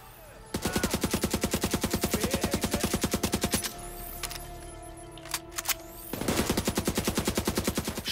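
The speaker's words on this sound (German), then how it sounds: "du schießt auf mich, ich schieß auf dich" Rapid automatic gunfire in the video game The Division 2, with two long bursts of fast, evenly spaced shots separated by a quieter pause with a couple of isolated cracks, loud and close.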